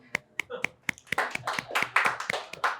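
Evenly spaced sharp claps, a few individual hands striking in a steady rhythm at first, then thickening into fuller clapping from more of the audience at a Korean church gathering, close and moderately loud.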